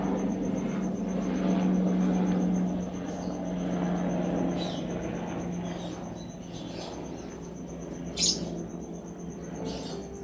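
A distant airplane passes overhead as a low, steady droning rumble that slowly fades, with a few faint bird chirps and a brief knock near the end.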